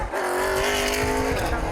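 A race car engine roars at close range with a long, sliding pitch and tire noise as the car spins out on the track during a CRA Super Series race at Columbus Motor Speedway.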